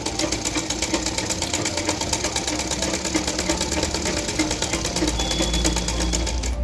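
A sewing machine runs steadily while stitching a blouse, its needle striking in a fast, even rhythm close up with a constant motor hum and no pauses.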